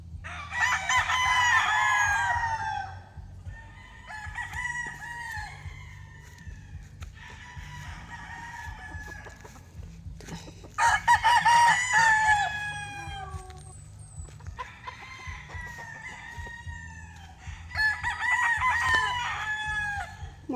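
Roosters crow several times in loud, harmonic bursts, with clucking hens and a low steady hum underneath.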